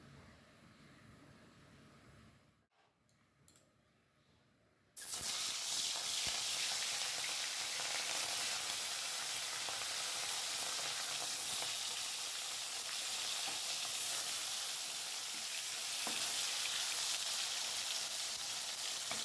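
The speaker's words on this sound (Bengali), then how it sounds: "এখন এর মধ্যে মাছগুলো আগে ভেজে তুলে নেবো" Steady, loud sizzling of fish frying in hot oil, a continuous crackling hiss that starts suddenly after a quiet moment and keeps going.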